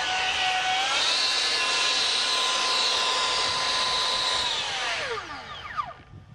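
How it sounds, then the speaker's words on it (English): An electric ducted fan on a radio-controlled jet spins up to a sustained high-pitched whine, holds there for several seconds, then winds down quickly to near silence. "We'll just do a little warm up there to set the throttle range"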